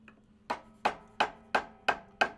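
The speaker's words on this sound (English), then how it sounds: "Chisel and mallet, my brother." A wooden mallet strikes a chisel six times in a steady, evenly spaced rhythm while carving wood in Māori whakairo style, each sharp knock close and clear with a quick decay.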